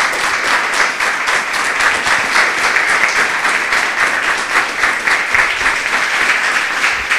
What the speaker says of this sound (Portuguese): Palmas para ele, bem forte.